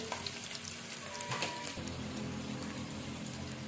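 Dried red chillies fry in hot oil for a puri curry, giving a steady, close sizzle with fine crackling and a slight shift in texture partway through. No one speaks.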